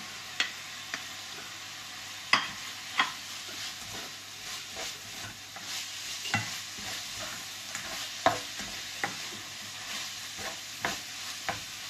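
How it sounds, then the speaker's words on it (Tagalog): Chicken frying in a pan with garlic and onion: a steady close sizzle and hiss with scattered sharp clacks of a utensil stirring against the pan, with no voices. "Lagay po natin itong ating chicken. I-dry po natin ng konti yung ating chicken."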